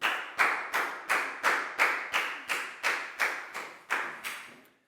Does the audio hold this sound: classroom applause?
yes